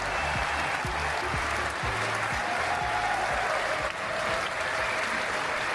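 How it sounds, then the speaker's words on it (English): Sustained applause from a live audience at a Downstream IRL recording at Earth Hackney, a dense, steady wash of clapping with some cheering mixed in, loud and continuous throughout. "it's a very, very lovely cheer."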